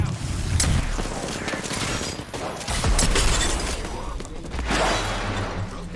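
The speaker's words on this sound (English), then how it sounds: "Thermite grenade out." Video game combat with a thermite grenade and gunfire: dense rapid bursts of shots, crackling impacts and mechanical clatter fill the mix almost continuously, with heavy low rumbles near the start and end.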